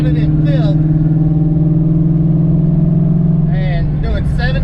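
A car engine drones steadily while cruising in fifth gear at 75 mph and about 2,400 rpm, a loud, even cabin hum, with a voice speaking briefly at the start and end.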